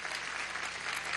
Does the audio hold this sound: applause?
yes